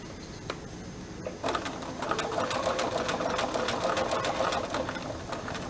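A sewing machine stitches fabric in reverse at a 3.2 mm stitch length, about 8 stitches per inch. After a short quiet start it runs in a fast, steady mechanical whir that stays close and even to the end.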